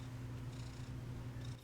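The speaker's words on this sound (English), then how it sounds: "Listen to that purr." Butters the cat purrs steadily right next to the microphone, a low, even rumbling throb that is faint overall but continuous, with no voices over it.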